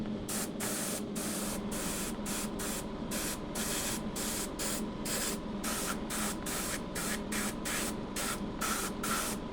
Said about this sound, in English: For me, I'm already used to this airbrush, and it's a cheap 20-pound airbrush.